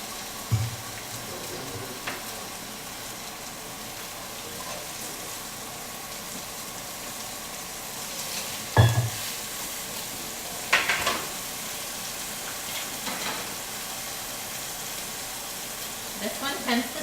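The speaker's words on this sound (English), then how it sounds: "Get that sizzle." A whiskey sous-vide pork chop sizzles steadily in a hot pan, a constant frying hiss with a few clinks and bumps, a kitchen fan running underneath and someone talking now and then.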